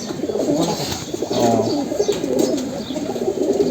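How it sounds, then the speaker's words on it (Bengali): A male Sobji racing pigeon coos at close range in a short series of soft, throaty, rolling calls. No one speaks. "একটা সবজি কবুতর, মাশাআল্লাহ। এটা তো নর, তাই না?"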